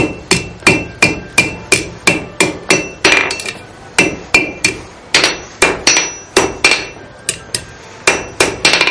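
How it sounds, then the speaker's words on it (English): A blacksmith's hammer rings against hot iron on the anvil horn, shaping a scroll into a J hook at Fort Gaines. The blows are loud, close and sharp, falling in quick steady runs with short pauses between bursts. "I'm going to be hammering on it, and I don't want to smash it."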